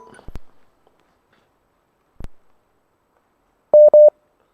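Telephone line tone as the next caller is put through on a Ramadan radio quiz call-in show: a couple of faint clicks, then two short, loud electronic beeps close together, with no talking.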